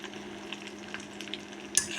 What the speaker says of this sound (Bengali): দেখো আমার ঘিটা কেমন করে টকবক করে ফুটছে